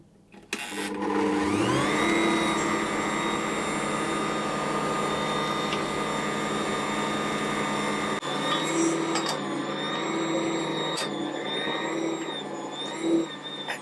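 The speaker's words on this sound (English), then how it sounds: "I'm going to continue now to knead this until the dough is nice and smooth." An Ankarsrum stand mixer kneads soft bread roll dough with a steady, even motor hum and a faint whine, running continuously with small shifts in pitch.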